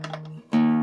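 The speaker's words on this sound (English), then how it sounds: "I'm going to get my low E up to pitch here." A plucked low E guitar string rings as it is tuned up to pitch, a short note dropping into a louder sustained tone near the end, alone and close.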